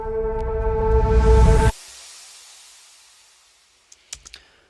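A music-production layer of vinyl crackle with reverse effects: tonal sound swells up and cuts off abruptly, then a faint fading tail gives way to a few sharp crackles and clicks near the end.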